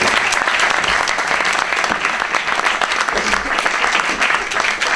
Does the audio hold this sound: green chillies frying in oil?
no